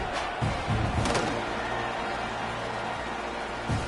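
A football stadium crowd before a kickoff gives off a broad, steady roar of distant noise with a few thuds and faint shouts, subdued and continuous throughout.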